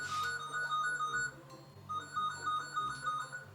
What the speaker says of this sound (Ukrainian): А чого взагалі дзвонить домофон?